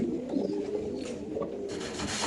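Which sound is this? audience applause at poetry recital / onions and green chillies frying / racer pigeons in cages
racer pigeons in cages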